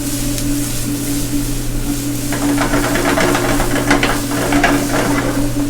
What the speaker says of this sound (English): that's what you want to hear, is that sizzle.